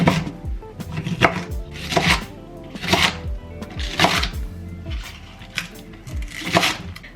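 Scallions being chopped with a knife on a board, close, loud bursts of rapid chops in rhythmic clusters about once a second, with brief pauses between runs.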